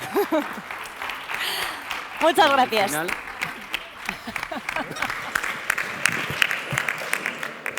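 An audience at a gender-equality event applauds steadily for several seconds, with brief talk near the start and a thank-you from a speaker partway through.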